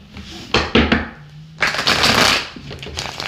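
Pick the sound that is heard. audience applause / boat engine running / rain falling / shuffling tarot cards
shuffling tarot cards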